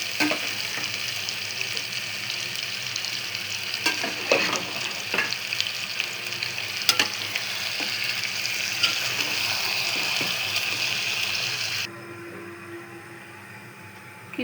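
Beef sizzles steadily in a pan with onion, oil, cardamom and bay leaf, a continuous close hiss with occasional stirring clicks that drops off sharply near the end.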